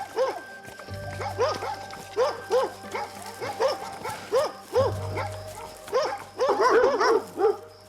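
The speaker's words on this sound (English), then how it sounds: "The dogs can bark all they want." Several dogs bark repeatedly in bursts of overlapping yelps and woofs at a farm or backyard with bears nearby, fairly close and loud, with a low engine or machine hum in the background.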